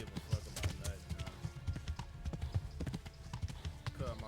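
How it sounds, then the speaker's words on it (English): Horse hooves gallop in the video game Kingdom Come Deliverance 2, a rapid, steady clip-clop rhythm close by, with voices talking over the hoofbeats. "Why your horse so fast?"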